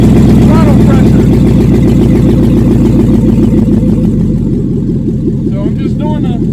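An L33 5.3-litre LS V8 swapped into a G20 van runs under throttle held by the cable, a loud steady engine drone with a slight dip in revs near the end.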